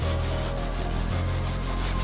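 Hand sanding of body filler on a Suzuki DA17V van body ahead of primer: a steady, close, continuous abrasive rubbing that keeps an even rasping texture throughout, with no voices.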